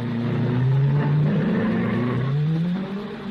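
A 1955 Monaco Grand Prix race car accelerating away from the gasworks hairpin, its engine note climbing loud and close, dipping briefly, then rising again as the car pulls away.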